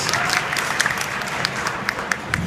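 Applause from a crowd at a Vegfest speech in London fills the room as a dense, steady patter of many hands, with a few louder claps standing out.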